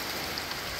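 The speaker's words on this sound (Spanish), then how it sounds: "Así sucesivamente va el pocote de agua, lloviendo." Heavy rain pours during a storm, a brief steady rushing hiss with no voices.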